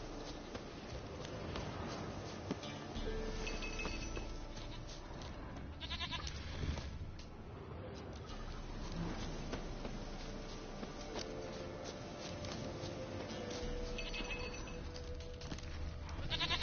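A goat in the video game The Witcher 3 bleats several times over a steady, dense wash of in-game ambience, its calls fairly close and lasting throughout.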